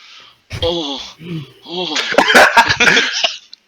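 A voice imitates heavy breathing with loud, rough, breathy huffs and gasps. The bursts come in quick succession and sound close to the mic.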